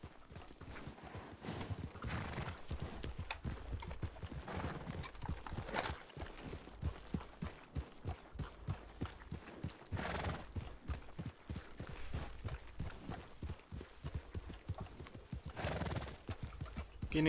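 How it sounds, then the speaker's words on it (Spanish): Horse hooves clip-clop at a steady trotting rhythm in the RedM video game, with a whinny rising briefly over the footfalls, all fairly quiet and continuous. "El caballo está ahí."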